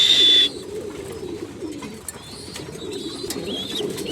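Racing pigeons in a loft coo steadily in low, throaty murmurs, several birds overlapping nearby, with a brief high chirp at the start and faint twittering above.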